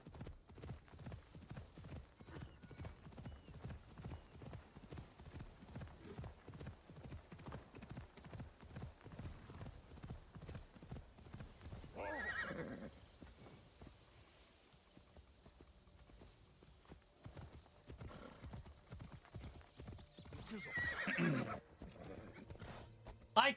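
A horse in the video game Assassin's Creed Shadows trots with a continuous rhythmic clip-clop of hooves, broken twice by loud whinnying neighs, the hoofbeats fading briefly in between.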